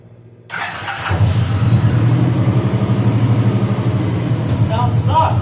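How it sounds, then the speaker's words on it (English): A motorcycle fitted with American Freedom exhaust pipes starts up after a brief quiet moment and settles into a steady, loud idle with a deep, even rumble close by. "These American Freedom pipes I bought off of a guy on eBay, which honestly don't sound that good, unfortunately. Here, take a listen."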